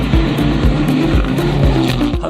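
A rally race car drives at high speed, its loud close engine roaring continuously with rhythmic thumps and gear-driven pulses and no voices.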